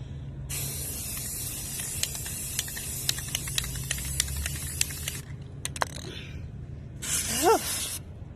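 Spray paint hisses in a long continuous burst, then a pause, then a shorter second burst, close and loud, with faint rattling and a brief voice.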